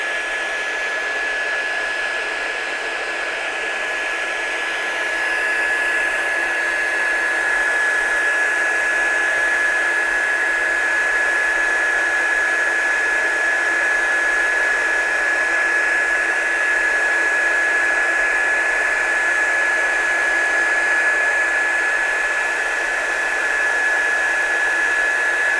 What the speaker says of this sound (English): I'm just heat setting this one, chase that powder across